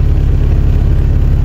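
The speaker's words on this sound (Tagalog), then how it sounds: "Panis, DC2, Type R. Ayun yung idle, guys." A Honda Civic DC2 Type R sits at idle, giving a steady, close, low rumble that stays even with no revving throughout.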